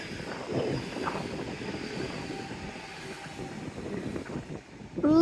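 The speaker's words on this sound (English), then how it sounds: "And what's more, here's a train." A train runs along the Dawlish seawall at a distance, a quiet steady rumble mixed with outdoor wind and surf-like noise, rising slightly at the very end.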